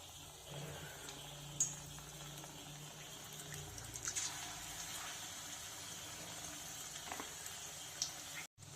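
Onion bhaji fry in hot oil, a soft, steady bubbling and crackle heard close up but fairly faint, with a few small pops and no talking.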